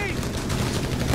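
Machine gun fire in the Company of Heroes 3 strategy game: dense, continuous bursts of automatic gunfire with explosions filling the whole moment, loud and close.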